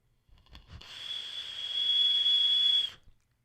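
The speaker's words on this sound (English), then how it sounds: "Did you guys hear that whistle?" A sustained high-pitched whistle rises in loudness and holds steady for about two seconds before cutting off, with a few soft knocks before it starts.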